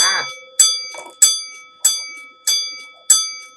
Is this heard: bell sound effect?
yes